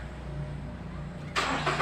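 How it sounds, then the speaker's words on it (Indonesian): The starter cranks on a Nissan X-Trail T30 with a rough-sounding, already-hot engine: a low idle-like rumble is followed by a loud, harsh burst of cranking near the end, with no talk. "Ini kita coba starter untuk mesinnya, suaranya seperti apa."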